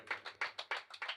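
A congregation clapping in unison at a Christian worship gathering, about seven sharp, rhythmic claps in quick succession, fairly close and moderately loud, with no talk over them.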